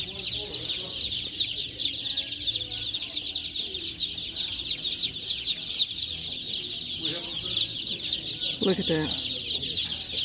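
Baby chicks peep in a dense, continuous high chorus inside a Tractor Supply farm store, steady and loud throughout, with a person's brief comment and some store background underneath.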